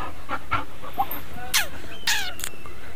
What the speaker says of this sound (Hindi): वो बकरी घूम रही है, ये इस पे भौंक रहा था, इसने भौंक रहा बहुत तेज है